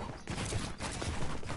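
Pump shotgun barrage in the video game Fortnite, a dense, continuous wash of blasts lasting under two seconds, steady and fairly loud with no clear gaps between shots.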